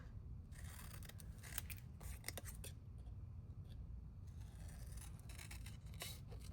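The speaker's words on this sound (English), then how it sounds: "And just fussy cut it just a little bit." Scissors fussy cutting around a shape in paper, close and quiet, a run of small irregular snips and crisp slicing bursts over a low background rumble.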